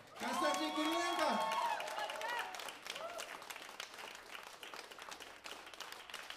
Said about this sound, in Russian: За это ему нужны хорошие аплодисменты